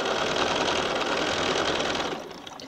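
A sewing machine stitches down the binding on a beginner quilt, a steady, loud, continuous motor whir with rapid needle chatter that runs for over two seconds, then slows and fades out near the end.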